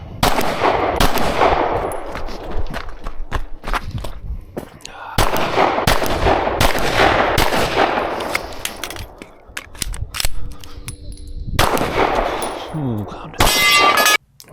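Pistol shots ring out in bursts during a USPSA Carry Optics stage, sharp repeated cracks with metallic clangs from steel targets, some clustered quickly and others spaced apart across the course of fire.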